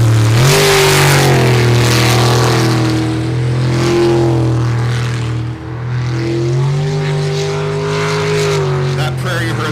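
Wicked Racing's number 10 boat, crewed by Dan Morrison and Sammy Gustafson, runs its engine during ASBR Stihl Pro Racing qualifying at Port Angeles, a loud, steady droning roar that rises and falls in pitch throughout.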